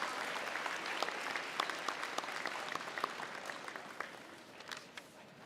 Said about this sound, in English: One more round of applause for all the people in the musical and these lovely students.